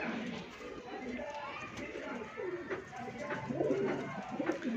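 Netted domestic pigeons cooing in a loft, soft throaty coos repeating in short bursts at close range beneath a murmur of voices.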